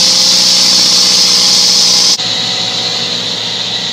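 A sailboat's engine idles loudly and close in a constant mechanical hum. Partway through, its tone drops abruptly and then settles back into a steady run.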